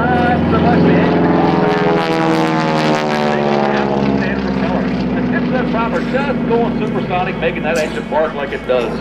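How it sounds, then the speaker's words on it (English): An SNJ aircraft with a 600 hp Wasp 9-cylinder radial engine flying aerobatics at an airshow, its loud droning engine rising and falling in pitch as it passes, with an announcer talking over it throughout. "Again, a Wasp engine 9-cylinder radial engine cranking out 600"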